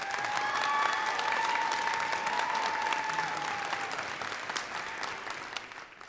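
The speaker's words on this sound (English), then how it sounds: "Let's give these people a round of applause." Audience applause at a fall academic honors convocation, a full sustained round of clapping from a large crowd in a hall that fades slightly toward the end, with a faint tone lingering beneath it at first.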